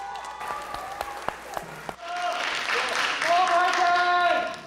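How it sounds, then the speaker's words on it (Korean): Audience applause breaks out at a Korean hip-hop competition stage and swells into loud, sustained clapping with crowd noise, following a spoken request over music that carries on underneath. "박수 한번 부탁드리겠습니다"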